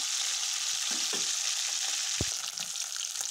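Fish coated in salt, turmeric and chili powder fries in hot oil, giving a continuous loud, close hiss and sizzle, with a dull knock of a utensil near the end.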